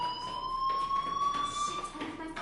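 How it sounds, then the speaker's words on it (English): A fire alarm rings in the game Life is Strange, a steady electronic tone with high harmonics sounding continuously at moderate level. "Hey, do you hear that fire alarm?"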